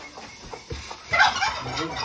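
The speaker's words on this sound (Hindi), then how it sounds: "मुर्गी निकालो ना बाहर।" A hen clucks in a small backyard coop, a few short low clucks followed by a louder, more agitated burst of cackling, fairly close, with faint movement around it.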